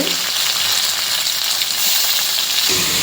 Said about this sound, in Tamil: இப்போ அந்த கட் பண்ணி வச்ச தக்காளியை போட்டு அதையும் நல்லா ஃப்ரை பண்ணிக்கலாம்.